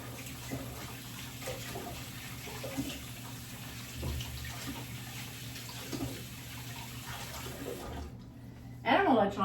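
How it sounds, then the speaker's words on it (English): Hands are washed under a running tap in a home kitchen, a steady close water splash with small shifts in flow that stops near the end, followed by a brief louder clatter. "Washing my hands a little bit."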